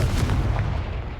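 Confringo fire spell blast in the Hogwarts Legacy video game, a loud, deep explosive boom that rumbles briefly and fades.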